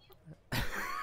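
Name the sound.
coughing fit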